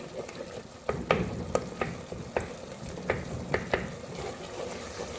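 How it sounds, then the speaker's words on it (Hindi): Minced meat keema frying with garlic in oil over a medium flame, a continuous close sizzle broken by sharp spoon knocks and scrapes against the pan as the garlic is mashed, no talking. "मीडियम फ्लेम पर कीमे को हमने भून लिया"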